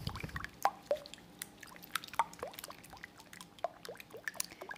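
Honey being poured into beaten eggs while mixing zucchini bread batter, heard as soft scattered drips and small liquid plops, close and quiet, with no talking.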